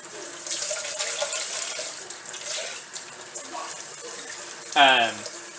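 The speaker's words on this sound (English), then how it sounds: "you want to wash it a few times. As a general rule, I try to rinse it 2 to 3 times" Water gushes from a kitchen faucet in one short loud burst near the end, after a stretch of quieter sink sounds under talking.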